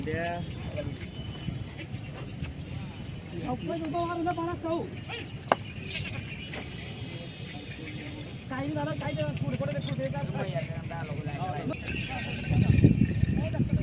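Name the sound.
bull hooves as farmer drives bull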